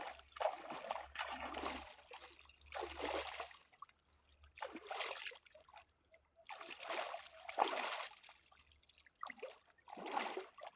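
Creek water splashes and trickles in repeated faint bursts as someone bathes in it, the splashes rising and falling in an irregular rhythm with quiet gaps between them.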